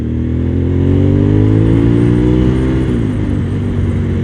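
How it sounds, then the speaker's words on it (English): Loud, close Suzuki TL1000R V-twin motorcycle engine revving steadily and rising in pitch, a deep throbbing drone that drops back near the end. "The V-twin motor just pulls hard all the way through the rev range."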